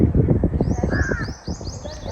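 Crows caw repeatedly in quick succession in a casuarina grove in Vadamarachchi East, Sri Lanka, clear and fairly close above a low murmur of background voices.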